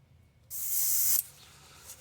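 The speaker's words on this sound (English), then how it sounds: "Now we're just going to spray it over the dark part of that green and nowhere else." A spray can hisses paint onto a wooden crankbait fishing lure in one short burst lasting under a second, close and clear against a quiet room.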